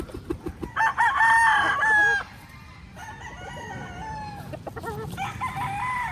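A gamefowl stag crows loudly and close by, one long crow followed by softer clucking and a second crow, on a game farm.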